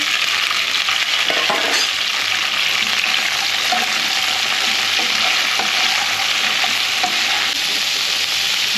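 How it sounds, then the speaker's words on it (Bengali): Dried red chillies and nigella seeds temper in hot mustard oil, giving a steady, close crackling sizzle with occasional stirring scrapes throughout and no talking. "দেখো এখানে আমি সর্ষের তেলে শুকনো লঙ্কা আর কালো জিরে ফোড়ন দিয়েছি।"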